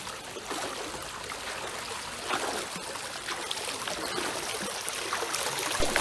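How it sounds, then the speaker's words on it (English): Kayak paddling on a river with a wooden Greenland paddle: a steady wash of moving water with light splashes and dribbles from the blade, close and moderately loud throughout, with no talking. "I took the paddle with my kayak to the nearby river and start paddling"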